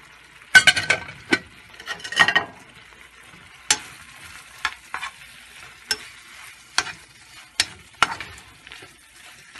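Spices for shrimp biryani frying in a pan: intermittent sharp sizzles and stirring scrapes in bursts, close and fairly loud, with quiet gaps between and no speech.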